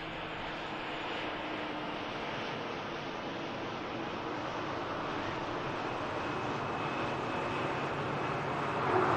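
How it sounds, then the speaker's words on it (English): Ryanair airliner taxiing past at Manchester Airport, a steady broad jet engine roar that holds close and loud throughout, with no talking. "Ryanair just taxiing past."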